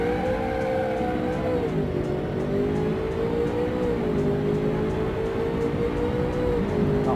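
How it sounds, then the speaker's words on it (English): Hybrid car accelerating hard in the Automation game, a steady, whining engine and motor tone rising and dipping in pitch as speed builds, heard alone and continuous. "let's try and do a nice aggressive acceleration"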